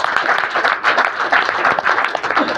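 A company event audience applauds for its managing director, a loud, close burst of dense clapping with uneven surges and a faint murmur of voices underneath.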